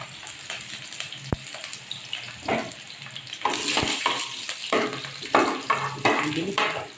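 Onion, garlic and ginger sauté in a pan for ginisang monggo, a loud close sizzle broken by repeated stirring scrapes and clinks of utensils against the pan.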